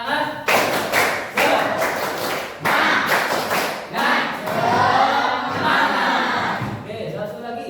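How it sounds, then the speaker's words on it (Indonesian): A class of students at SMPN 1 Taman Krocok performs the rhythmic 'tepuk semangat' spirit clap: sharp bursts of patterned clapping in quick groups, mixed with chanted voices and a teacher's talk between rounds. "Tepuk semangat."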